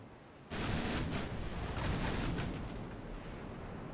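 Warship guns fire in the naval game Ultimate Admiral Dreadnoughts, a sudden heavy booming barrage that rumbles loudly for a few seconds, then a lingering roar as it fades.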